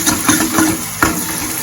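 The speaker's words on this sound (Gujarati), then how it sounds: "તે એકરસ જેવી થઈ જાય ત્યાં સુધી તેને મીડિયમ ગેસની ફ્લેમ પર આ રીતના સાંતળવા દેવાનું" Corn curry gravy with tomatoes and onions sautés in a pan over a medium gas flame, a loud close sizzle with rhythmic stirring scrapes and spoon knocks.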